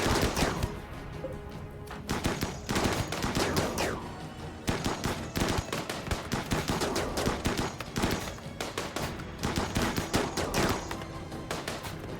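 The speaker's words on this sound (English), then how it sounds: "give a 7-gun salute to Sean" Video-game gunfire for a seven-gun salute comes as a long barrage of loud, rapid shots in dense bursts with short gaps between volleys, with no voices.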